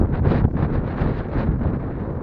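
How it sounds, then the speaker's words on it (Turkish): Steady, gusting wind buffets the microphone during a climb on Barla Mountain, a continuous broadband rush with slight swells and no voices. "rüzgar var."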